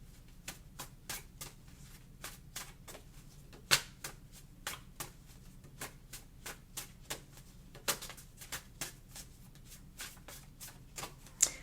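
A deck of cards is shuffled close up in a run of crisp, irregular snapping riffles and taps, some sharper and louder than others, over a quiet room with no talking.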